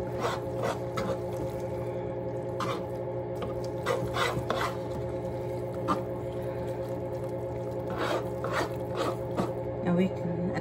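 A spoon stirs pasta and sauce together in a pot, giving steady scraping and soft wet rubbing with repeated clicks against the pot, close and continuous beneath a background voice.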